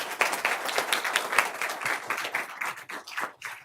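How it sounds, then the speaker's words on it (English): A crowd at a county board of supervisors meeting claps for a work crew, a moderate, steady patter of many hands that thins toward the end, heard from within the room. "So just a round of applause for them."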